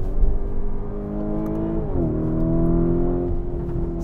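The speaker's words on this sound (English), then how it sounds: "sound of naturally aspirated V10, heat haze, butterfly valves" A Lamborghini Huracan Tecnica's naturally aspirated V10 exhaust at full throttle, a loud sustained howl with butterfly valves open, dipping briefly at an apparent gear change before climbing again.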